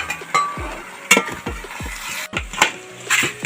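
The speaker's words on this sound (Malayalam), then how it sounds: "നല്ലതായിട്ട് ഇറക്കി ഇളക്കി കൊടുക്കുവാണ് ഈ മസാല ഇറച്ചിയിലൊന്ന് പിടിക്കാൻ" A spoon stirs chicken masala through duck meat in a pan for a traditional Kuttanad duck curry, with a run of scraping strokes and wooden knocks on the pot over a faint sizzle.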